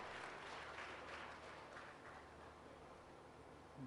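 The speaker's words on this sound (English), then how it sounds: "Give a big round of applause." Steady applause from an audience, a dense wash of clapping that holds at an even level throughout, slightly distant.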